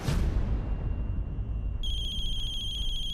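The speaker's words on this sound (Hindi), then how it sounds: "हाँ भैया, कॉल जा रहा है।" After a burst of noisy background, a phone placing an outgoing call gives a steady electronic ringback tone that holds on without a break until the end.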